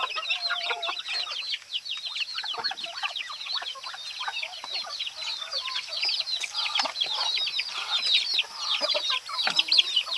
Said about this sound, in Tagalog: Ito na yung ating mga muscovy duck.